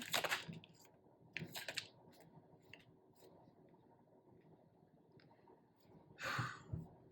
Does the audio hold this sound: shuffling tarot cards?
yes